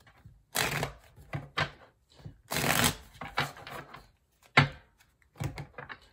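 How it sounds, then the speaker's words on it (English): Tarot cards being shuffled by hand, close and fairly quiet, in several short riffling bursts separated by brief pauses, with no talking over them. "Let me give you two more shuffles."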